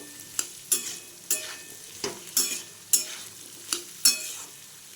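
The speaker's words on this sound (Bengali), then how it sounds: "দেখুন এগুলো আমি খুব ভালো করে ভেজে নিলাম।" Vegetables for masala dalia fry in a pan, a continuous close sizzle broken by about nine regular spatula scrapes and stirring knocks, with no voices.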